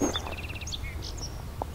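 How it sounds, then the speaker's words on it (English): Barn swallows calling as they fly over a summer raspberry patch in Southern Ontario, with quick high chirps and twitters at moderate distance over a quiet outdoor background, one brief louder note near the start. "Hearing some barn swallows going over."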